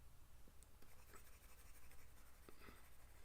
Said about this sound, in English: I will erase.